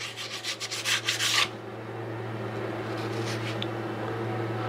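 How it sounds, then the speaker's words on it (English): Sandpaper rubbed by hand over a soft wood inlay to knock off fuzz, with rapid scratchy back-and-forth strokes for about a second and a half before stopping, leaving a steady low hum in a quiet workshop. "Here's just a little piece of sandpaper here, and those will come right off."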